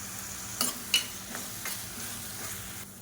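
Onions and chopped garlic sautéing in oil in a pan, giving a soft, steady sizzle with a few brief stirring scrapes and clicks near the start.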